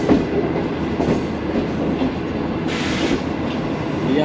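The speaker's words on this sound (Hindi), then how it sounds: "हमारी ट्रेन अप्रोच बना रही है लांडी जंक्शन रेलवे स्टेशन पे" Shalimar Express passenger train approaching Landhi Junction station, a loud steady rumble of rolling wheels and rail noise with faint clickety-clack and some high squeal, continuous and close, with no voices.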